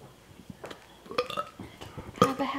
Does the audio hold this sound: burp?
yes